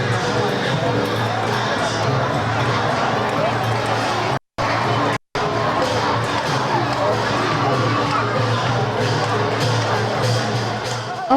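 Loud, sustained cheering and shouting from a large crowd at a Burmese paper fire-balloon festival, a dense roar of voices with children's shrieks, cut by two brief dropouts midway.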